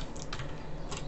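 Computer keyboard shortcut keys pressed on a desktop window manager, a few quick faint clicks over quiet room noise.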